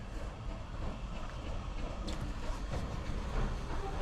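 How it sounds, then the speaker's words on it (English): Steam trains pull into Totnes Riverside station on the South Devon Railway during a winter steam gala. A steady, moderately loud rumble of moving rolling stock carries faint clanks and hisses, with no voices. "Right, final trains of the day coming in here at Totnes Riverside."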